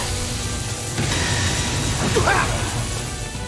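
Judgment Bolt attack effect from the game Trails of Cold Steel 2, a loud sustained crackling electrical rumble with a rising metallic zap partway through, no talking.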